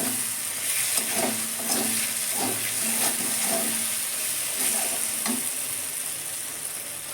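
Lightly boiled potatoes drop into hot oil and cooked-down spiced yogurt in a pan over low gas, giving a steady close sizzle and frying crackle with intermittent stirring scrapes throughout.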